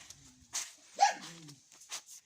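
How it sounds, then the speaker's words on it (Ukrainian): A farm dog gives a few soft, short barks and yips at a hen at a distance, faint against quiet background noise. "І одна курочка підійшла до Джека, він щось гавка на неї, щоб відійшло."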